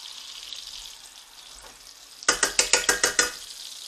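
Grouper fillet sizzling in hot butter in a pan, with a steady fry hiss followed by a quick series of about eight rhythmic spoon bastes splashing loudly up close.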